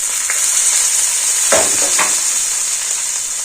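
Cumin, mustard seeds, black gram, asafoetida and curry leaves temper in hot oil, a loud close continuous hiss with a couple of sharper crackling bursts as ingredients hit the pan.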